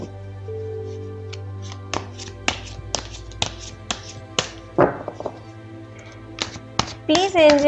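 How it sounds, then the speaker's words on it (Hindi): Tarot cards are shuffled by hand with a string of light taps and flicks, then a couple of brief riffling bursts near the end, set against a soft, steady musical tone. "तो चलिए पहले कार्ड्स को शफल करते हैं।"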